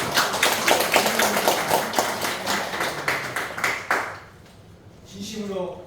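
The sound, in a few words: congregation clapping to welcome a visitor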